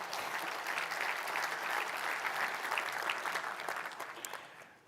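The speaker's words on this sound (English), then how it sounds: "There was a lot more people clapping than raised their hands on database people." A dense, steady wash of audience applause fills a keynote hall at the Live! 360 2024 software conference, many hands clapping together for the full length before tapering off at the very end.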